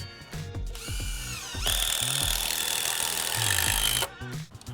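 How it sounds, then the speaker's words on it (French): Power drill driving screws to fasten wooden braces onto posts of a garden pool house, a loud whirring that ramps up and holds steady for a couple of seconds before stopping, with short bursts before and after. "on va visser les bras de force sur les poteaux"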